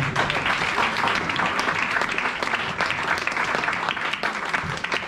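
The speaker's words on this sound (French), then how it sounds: "Est-ce que tu peux acclamer le Seigneur?" A church congregation applauds and cheers in praise, a steady, dense wash of clapping that holds for several seconds without letting up.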